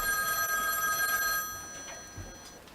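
A telephone rings on the call-in line of a live bar radio show. A steady electronic ring sounds for over a second, then cuts off into quiet room noise.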